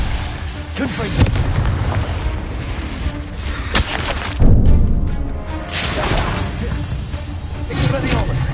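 Confringo blasting spell explosion in the Hogwarts Legacy video game, a loud booming burst with crashing debris amid a dense clash of spell whooshes and impacts, under a shouted incantation.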